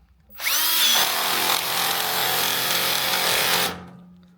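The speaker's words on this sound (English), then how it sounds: "So now to remove the tool, you're going to reverse your drill." A power drill driving an Astro Pneumatic rivet nut drill adapter whirs loudly and steadily for about three seconds, starting and stopping abruptly, with a faint squeal as it spins up.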